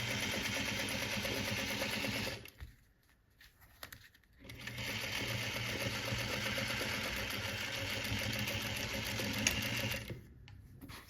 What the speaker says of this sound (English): Back stitching to keep that from coming apart.